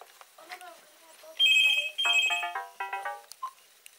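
A mobile phone ringing with an incoming call, bright repeated electronic ringtone bursts in short patterned pulses, close and loud, mixed with people talking around it.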